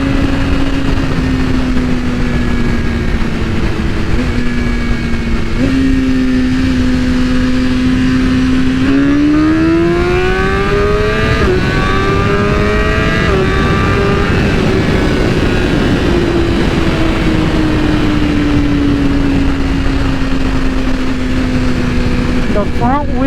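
A BMW M1000RR sport motorcycle with rear gearing dropped three teeth accelerates hard in second gear from a rolling start. The loud, continuous engine whine climbs and shifts in pitch over steady wind rush.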